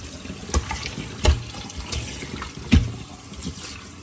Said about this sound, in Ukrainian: набираємо холодну воду